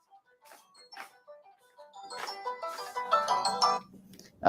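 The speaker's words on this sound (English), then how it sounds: "Sorry, my phone is ringing." A mobile phone ringtone plays a short melodic tune of bright, stepped tones that builds in loudness, with faint sounds beforehand.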